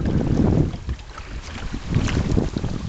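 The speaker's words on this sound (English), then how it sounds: "Oh, it's getting windy." Wind roars across a sailboat moving quickly on open water on the way to Bird Island, a loud, gusting rush buffeting the microphone with low rumbles and water noise beneath it.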